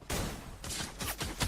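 Gunfire in the video game Free Fire, a rapid series of sharp gunshots in bursts, loud and close, with no speech over them.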